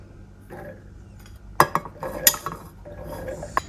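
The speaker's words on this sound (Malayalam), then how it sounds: "അപ്പം മിക്സിയുടെ ജാർ എടുക്കുക, അതിലേക്ക് നമ്മളുടെ ചോറ് 2 കപ്പ് ചോറ് ഇട്ടെടുക്കുക." Cooked leftover rice being spooned into a mixer grinder jar, with a few sharp metallic clinks and scrapes of a spoon against the jar, close by and spaced irregularly over quiet room noise.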